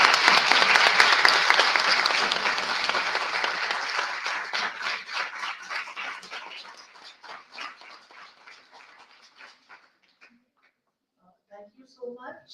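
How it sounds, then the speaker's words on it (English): A conference audience claps to welcome a speaker to the stage, loud dense applause at first that thins into scattered individual claps and fades out, with a few faint sounds near the end. "Please welcome Ms. Kizan Yanzom Sherpa ma'am on the stage with a great round of applause"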